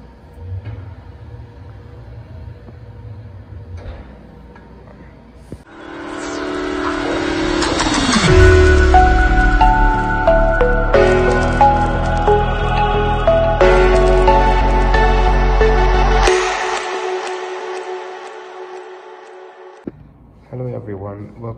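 Steam sterilizer autoclave running, a loud low rumble and hum that builds, holds steady, then drops away as the heating element switches off, leaving near quiet with a faint click.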